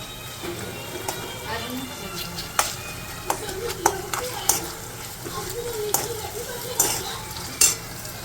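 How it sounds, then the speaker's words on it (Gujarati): Garlic and ginger paste sizzles in a pan with frying okra, a steady crackle under repeated stirring scrapes and clinks, with a person talking over it now and then. "હવે એમાં નાખી દઈએ લસણ અને આદુની પેસ્ટ."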